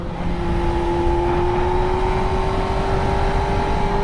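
A high-revving engine with a 16,000 rpm limit drones loudly and steadily, its tone edging slightly higher across the stretch, close and continuous with no talk.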